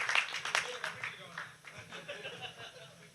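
Audience members clap in welcome for a speaker at a Tamil debate event, a modest scattered round of applause with some chuckling, fairly faint.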